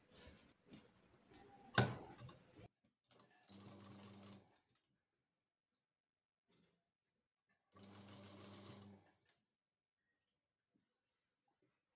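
A sewing machine stitches the seams of a princess-cut blouse turned inside out, in two short, quiet whirring bursts separated by silence, with soft handling noises at the start.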